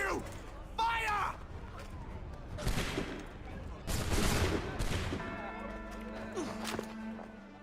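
Gunfire volley in Assassin's Creed III: several loud musket-like bursts at intervals, the strongest around the middle, mixed with shouting voices and crowd movement in the game scene.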